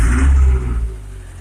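Diesel engine of a homemade tractor fitted with a Mercedes engine, loud and close, revving up briefly and then easing back to a rough, lower running note with no voices over it.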